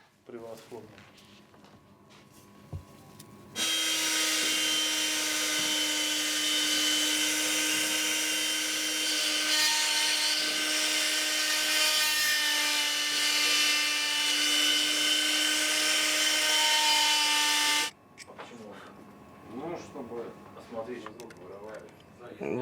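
A high, steady whine from a small rotary drill carving a mammoth ivory chess piece in a workshop runs for about fourteen seconds, then cuts off. Quieter ambient sounds come before and after it.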